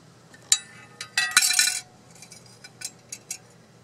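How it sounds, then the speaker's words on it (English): A metal oven thermometer is set down inside a solar funnel cooker outdoors, giving a sharp clink, a brief burst of scraping metallic rattles, then several lighter taps, all close and with no talk. "And I'm putting an oven thermometer inside."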